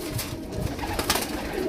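A pigeon offered for sale coos softly several times, fairly close but low in level, against a steady background of outdoor noise with no one talking.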